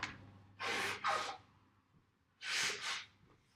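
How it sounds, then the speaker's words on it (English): Two quiet rounds of nose blowing, each a pair of breathy, snorting honks, with soft background noise between them. "I will get out of the camera so you don't see me blow my nose."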